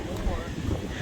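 Strong, chilly wind blowing at a Lake Erie shoreline nature preserve near Mentor, Ohio, a dense low buffeting roar battering the microphone without letup for a brief moment.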